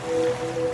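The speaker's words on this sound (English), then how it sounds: "now you're drifting asleep to the scent and sound of waves" Ocean waves in a radio advert wash steadily and softly across a brief moment, a continuous surf-like hiss with a faint tonal hum beneath, no voices.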